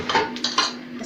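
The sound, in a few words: metal griddle pan for grilling fish being handled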